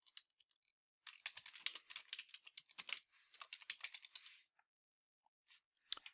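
Someone types a search on a computer keyboard, producing quick bursts of close, light key clicks with short pauses between runs, followed by a few scattered taps.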